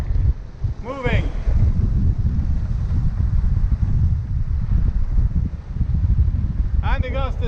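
A strong wind gust roars continuously across a Bavaria 41 sailing yacht, loud and buffeting, with brief voice-like creaks rising above the rumble twice.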